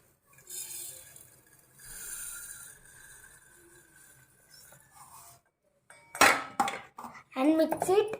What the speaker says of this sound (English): And mix it well with whisker. Beat.